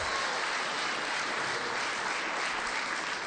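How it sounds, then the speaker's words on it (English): A comedy benefit audience applauds the earlier performers, a sustained wash of clapping that holds at an even level for a few seconds with no talking. "Give them a nice round of applause."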